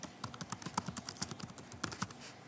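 Rapid, close keystrokes on a computer keyboard while text is entered in an online design tool, a fast irregular run of crisp clicks with a brief pause near the end.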